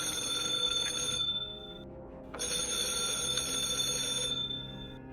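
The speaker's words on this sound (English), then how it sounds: "I heard a phone ring from somewhere inside the house" A telephone rings inside a house with an electronic trilling tone, two long bursts separated by a short pause, close and clear with no talking.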